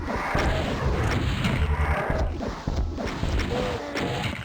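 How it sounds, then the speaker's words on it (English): Rocket launcher blasts in Doom 2, a series of booming explosive shots with dense gunfire clutter and impacts running continuously at close range, no voices. "Gonna go to rocket launcher."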